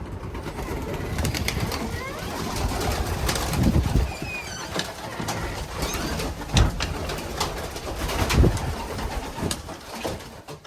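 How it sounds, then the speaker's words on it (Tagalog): Pigeons coo softly amid a busy outdoor background, with occasional wing flaps and thumps scattered through the scene. "Parang naririnig kong nag-iingay na yung mga kalapati ko."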